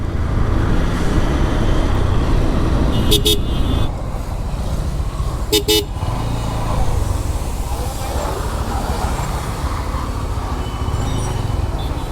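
A motorcycle rides slowly along a quiet road in steady, loud traffic rumble and wind noise, with two short horn toots from passing vehicles partway through.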